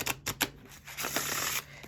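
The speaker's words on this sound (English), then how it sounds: "It doesn't feel like it impedes the riffle shuffle at all." A gold-gilded tarot card deck is riffle shuffled up close: a few quick papery snaps, then a fast fluttering burr of cards interleaving, fairly soft with no talk.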